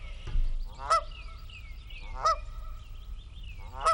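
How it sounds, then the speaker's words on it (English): A father goose on a dock in Munsonville, Vermont, honks loudly three times at even intervals, each a sharp nasal call over faint outdoor background noise. "The father goose was really upset"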